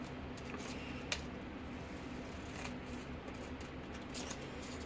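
Scissors snip through paper while cutting out a model railroad track template, giving quiet, irregular crisp snips over a soft background hiss with no speech.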